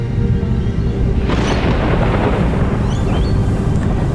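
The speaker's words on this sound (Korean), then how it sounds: "늦은 봄이 되면 폭풍 구름이 몰려옵니다." Thunder rolls loudly through a spring thunderstorm in southeast Queensland, a sustained low rumble with a heavier crack-like swell midway, rain-filled and continuous with no voices.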